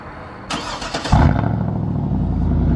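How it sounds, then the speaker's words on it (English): A 2010 Cadillac Escalade with its muffler deleted cold starts: a brief starter whir, then the engine catches with a loud bark and settles into a deep, rumbling idle that holds steady and close. "We gotta get that cold start"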